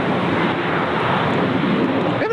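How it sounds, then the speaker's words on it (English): A Boeing 737-800 airliner arriving from Sydney touches down and rolls out on runway 14 at Gold Coast Airport, heard as a loud, continuous broadband roar with wind buffeting on the microphone. "Velocity 511 touching down there, runway 14, just rolling out the 738 in from Sydney."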